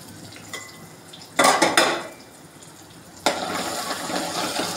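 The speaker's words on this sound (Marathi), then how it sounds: "हे असं फिरवून घ्यायचं आहे चांगलं व्यवस्थित पद्धतीने" A spoon scrapes and clatters through spinach and soya chunks seasoned with turmeric in a pan, two bursts of close metallic stirring separated by a quieter pause.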